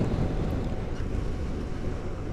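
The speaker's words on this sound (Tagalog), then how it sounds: "malakas yung hangin" Strong wind roars steadily against the microphone during a motorcycle ride on back roads in Calaca, Batangas, a loud continuous low rumble with no talk.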